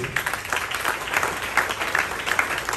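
A church congregation at a family's first presentation service claps together in a dense, continuous burst of applause, moderately loud and sustained, with faint voices mixed in.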